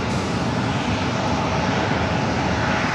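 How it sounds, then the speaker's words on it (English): A military aircraft taking off at San Diego airport gives a loud, continuous engine roar that stays steady and dense throughout, with no voices over it. "I just saw a military aircraft just take off."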